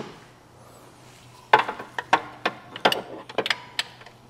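A socket wrench ratcheting on the belt tensioner of a Chevrolet Cruze 1.8L engine, a quiet pause followed by a run of close, irregular metallic clicks and clacks.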